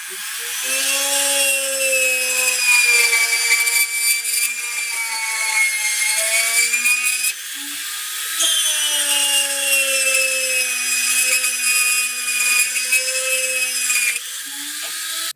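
A MicroLux 1/4 inch heavy duty flex shaft machine runs with a steady high whine and faint grinding rasp, spinning for about seven seconds, briefly easing, then running again at similar pitch.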